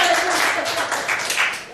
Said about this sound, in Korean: 좀 박수 한번 쳐주세요